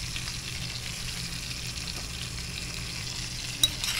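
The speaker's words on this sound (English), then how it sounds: "Give that a little stir." Crispy garlic chips and salt stirred while frying in a pan for a fish garnish, a steady close sizzle and crackle with a faint scrape of a utensil near the end, no talk.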